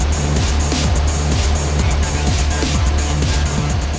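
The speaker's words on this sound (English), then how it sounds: "You can see the engine is still running very smoothly." A car engine idles under the bonnet while running with no engine oil, giving a steady, loud mechanical hum with a fast regular ticking pulse close by and no voices over it.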